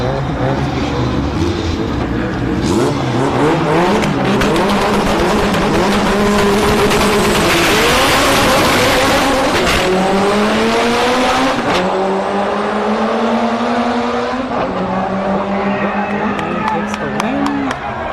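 No-prep drag racing cars at Orlando Speed World roar down the strip, engines climbing in pitch through gear changes, loud and close, with an announcer talking over the noise.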